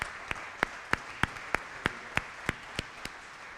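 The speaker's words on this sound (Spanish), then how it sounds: "realmente brindar un aplauso a los disertantes" Audience at a university panel on higher-education management applauds the panel speakers: sparse, evenly spaced sharp claps, about ten over a few seconds, fairly distant in a large room, with no talk over them.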